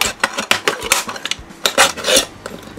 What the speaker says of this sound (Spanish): para cortar una lata de refresco es muy fácil simplemente con un cúter o con un cuchillito le metéis así veis y ya le vais cortando